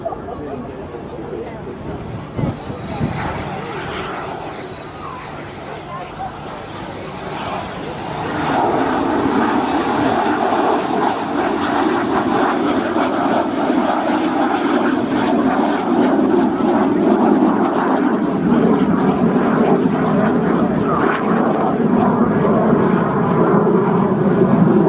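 French Air Force Alpha Jet flying a display at Scampton, its jet roar building from a distant whine to a loud, sustained pass overhead while a commentator talks over it.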